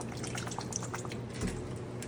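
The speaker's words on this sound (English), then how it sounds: "I'm just going to throw a little bit of lime juice" Lime juice trickles and drips over crab sitting in hot water, a soft, faint run of small liquid splashes and drips under a low background hum.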